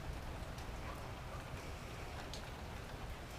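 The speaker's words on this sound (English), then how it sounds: "Just barely a little bit of rain coming in it." Light rain falls outdoors as a faint, steady hiss with soft scattered patter, quiet and continuous, with no voices.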